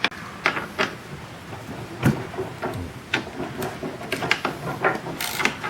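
A ratchet undoes the bolts holding a car seat, giving close, sharp clicking bursts at an irregular pace with small metallic knocks and handling noises between them.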